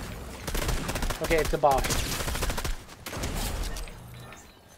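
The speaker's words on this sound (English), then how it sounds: "I'm getting shot at." Gunfire in Fortnite Chapter 4 Season 4, scattered bursts and single shots at moderate loudness, mixed with game effects, while a player speaks briefly over it.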